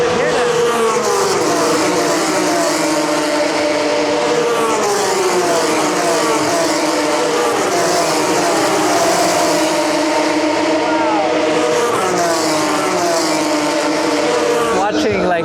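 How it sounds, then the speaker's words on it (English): Formula 3 race cars roar past at the Monza circuit, a continuous loud rush of high-revving engines rising and falling as the field streams by, heard from trackside hospitality with people talking over it. "we are watching or witnessing the Formula 3 cars go around track now"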